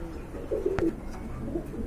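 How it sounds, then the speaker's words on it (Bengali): A pair of orange-coloured Chila pigeons coo softly at a pigeon market, a short low burble with a brief sharper accent midway, heard close over steady background noise. "বন্ধুরা এইখানে রয়েছে এক জোড়া চিলা কবুতর"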